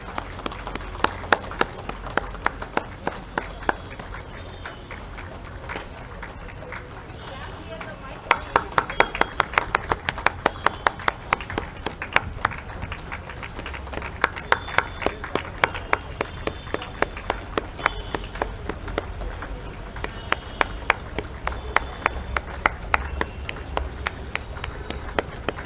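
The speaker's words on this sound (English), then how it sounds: "Keep clapping louder and louder." An audience claps hands at an Independence Day celebration, with scattered claps growing into fuller, rhythmic rounds of applause while a voice speaks over the crowd.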